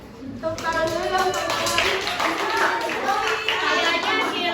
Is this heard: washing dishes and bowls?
no